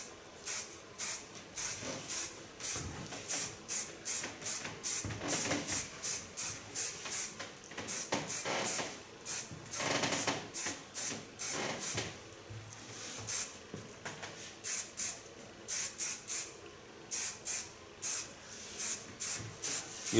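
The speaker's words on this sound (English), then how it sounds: "Using a real nice hairspray of Glint." Glint hairspray puffed onto hair during a salon styling, as many short, sharp hissing sprays in quick rhythmic bursts, close and fairly loud, with a few brief pauses between runs.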